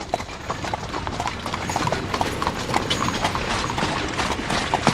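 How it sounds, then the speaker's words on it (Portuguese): A horse-drawn carriage rolls along a road with many horses, steady brisk clip-clop of hooves mixed with rattling wheel and mechanical clatter, continuous and fairly close throughout. "o som comum das rodas de uma carruagem, muitos cavalos e uma misteriosa batida na estrada"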